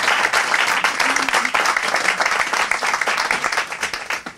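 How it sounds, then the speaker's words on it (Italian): An Italian audience at a music event applauds again, a full, sustained round of clapping that thins slightly toward the end, with no voices over it. "Intanto un altro applauso"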